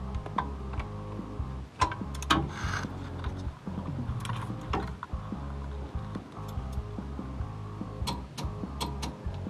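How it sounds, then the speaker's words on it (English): Mechanical clicking and ticking as a torque wrench tightens inner axle bolts on a Jeep JK during an axle seal job, with sharp repeated clicks at irregular intervals over a steady background, close and fairly loud, with no talking. "we'll torque them to 45 foot-pounds."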